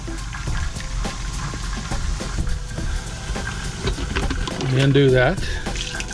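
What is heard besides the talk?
water running from tap flushing antifreeze in Jayco camper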